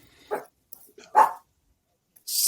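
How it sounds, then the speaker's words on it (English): A single dog barks a few times in short, separate bursts with pauses between, heard fairly close in an otherwise quiet indoor room, with no talking over it. "my dog is starting to bark"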